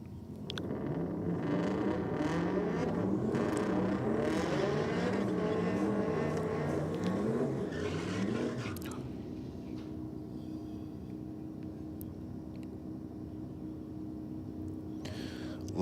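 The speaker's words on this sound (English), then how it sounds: "Love that doughy sound of the turbocharged LS in the utility doing the burnout there." A turbocharged LS-powered utility does a burnout, its engine roaring and warbling loudly with tire noise, then dropping to a lower idle-like drone as the car-show scene continues.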